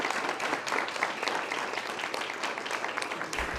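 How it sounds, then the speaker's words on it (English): Steady applause from an audience at a Leander ISD school board meeting fills the room, a dense continuous wash of many hands clapping at moderate loudness with no talk over it. "If y'all can just stand up so we can applaud y'all as well"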